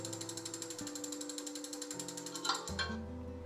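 A spinning giveaway wheel ticks in a rapid, even stream of small clicks that slow slightly as it winds down, quiet and close, with a faint hum underneath.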